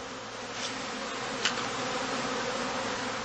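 Honey bees hum around a straw skep hive on heathland, a dense steady buzz of many insects close by, with faint individual fly-bys passing through.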